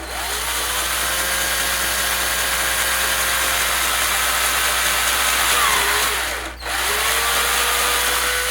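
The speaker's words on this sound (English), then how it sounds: "Instead of drilling the hole all the way through, I'm going to go ahead and move the drill bit to the next hole" A power drill bores holes through wood for an arcade cabinet control panel, a steady close whine running with a brief dip as the bit pauses, then spinning back up.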